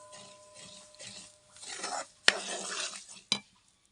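A spoon scraping and stirring roasted semolina with sugar in a pan for suji halwa, soft gritty swishes close by, then two sharp metallic clinks near the end, with no talking.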